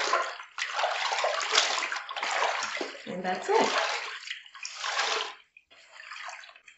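White towels being dipped and rinsed by hand in a basin of water, with sloshing and dripping splashes in bursts, nearby and moderately loud, while a person talks over much of it.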